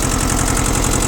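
A Shibaura SU1341 compact tractor engine runs at a steady idle in cold weather just above freezing, a loud close rhythmic diesel chug with a fast regular pulse and no voices.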